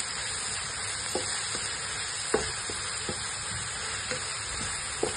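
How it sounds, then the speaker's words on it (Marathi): Garlic and green chili frying and being stirred in a pan: a steady broadband sizzle runs throughout, with soft scattered clicks of the spatula against the pan, close and moderately loud, no talking. "लसूण टाकूया आणि हिरवी मिरची त्याला परतून घ्यायची."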